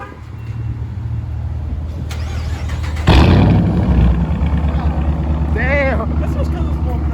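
A 2018 Dodge Charger Hemi V8 with straight pipe exhaust fires up and settles into a loud, rumbling idle, with voices talking nearby over the engine.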